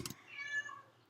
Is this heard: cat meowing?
yes